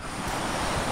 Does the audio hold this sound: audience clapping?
no